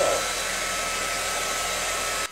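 A handheld hair dryer blows steadily at close range with a constant whirring rush of air, then cuts off abruptly at the very end.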